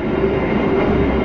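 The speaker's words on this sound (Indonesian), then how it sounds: "jika Anda ingin bepergian menggunakan kereta api Gajayana" Inside an executive-class carriage of the Gajayana passenger train, a steady, loud rumble of the moving train fills the air with a constant low roar and faint wheel clatter.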